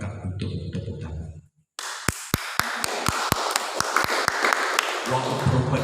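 During a church service, someone speaks, then a short silence falls before a congregation claps in a steady, evenly spaced rhythm of sharp, loud claps over a crowd murmur. His voice returns at the end.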